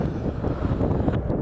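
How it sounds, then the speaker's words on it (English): Wind roars over the microphone while riding a new Yamaha MT-07 motorcycle with an IXRace exhaust on a cold day, a steady loud buffeting rush that drops away near the end. "Oh, it's that wind."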